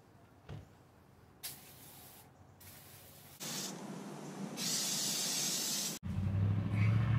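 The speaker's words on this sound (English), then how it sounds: "spray this Gunk engine degreaser on the engine and the rest of the parts in the engine compartment" Gunk engine degreaser sprayed over a boat engine and parts in the engine compartment, heard as steady hissing bursts that start and stop, growing louder and longer toward the end, with no talking.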